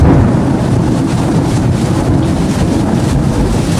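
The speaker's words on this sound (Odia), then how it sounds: "ଝଡ଼ ବର୍ଷା ଏମିତି ଲାଗି ରହିଲା" A forest rainstorm with heavy wind roars steadily and close, a dense wash of gusting wind and rain with low rumbles underneath, unbroken for several seconds and with no voices.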